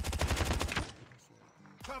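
Rapid automatic gunfire rattles loudly for under a second in a Call of Duty Mobile Search and Destroy ranked match, then drops to quiet with faint game sounds and a short blip.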